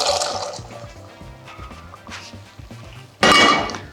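Soaked chickpeas, with bits of kelp, are strained out of their cooking water for gluten-free hummus: soft trickling and dripping, then a sudden loud rush of pouring water near the end.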